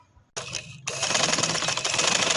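Sewing machine stitching a black trouser, starting after a brief quiet moment, with a short burst then a steady, close, rapid mechanical whir that continues without any talking.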